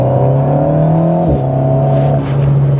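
Alpine A110 S sports car, 292 hp, accelerating hard out of a hairpin: a loud, steady engine note climbing in pitch, with a brief dip around a gearchange before rising again, no voices over it.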